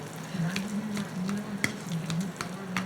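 Food sizzles in a pan while a spoon stirs it, with a continuous frying hiss, a low hum and repeated close scrapes and taps in an even rhythm.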